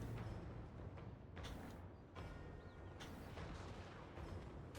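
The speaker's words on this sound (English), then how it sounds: "More pistol shots hitting him a little bit." Pistol and rifle shots ring out in a fantasy video game battle as faint, muffled bursts that sound distant against a low rumbling background.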